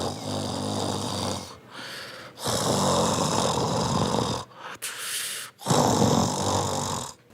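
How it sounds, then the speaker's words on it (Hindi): Cartoon giant tree snoring in deep sleep, three long rasping snores with short quiet breaks between them, loud and close, alone without speech. "वो तो ऐसे खर्राटे ले रहा था जैसे घोड़े बेचकर सोया हो।"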